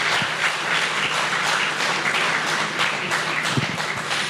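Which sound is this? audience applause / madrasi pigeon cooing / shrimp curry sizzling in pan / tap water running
audience applause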